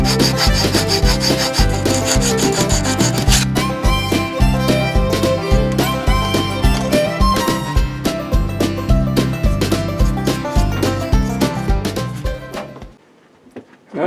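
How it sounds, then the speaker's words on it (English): Wood being sanded by hand with 150 grit sandpaper for a model sailboat part, a steady rhythmic scratching of back-and-forth strokes that runs loud and close for about twelve seconds, then stops. "we'll smooth that up with a bit of 150 grit sandpaper"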